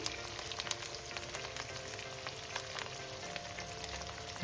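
Asafoetida and curry leaves frying in hot oil for arhar dal, a steady close crackle and sizzle that runs throughout with scattered sharp pops, no voices.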